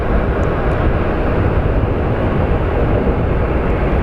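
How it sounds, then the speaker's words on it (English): A passenger airplane landing at Phoenix Sky Harbor International Airport, heard as a steady, loud, broadband engine roar that holds constant throughout with no talk. "once this plane lands"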